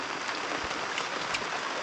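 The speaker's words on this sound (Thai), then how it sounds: "ฝนตกต่อเนื่องเลยตั้งแต่หัวค่" Steady rain falling through the night, a dense, even hiss of drops at constant loudness with no pauses.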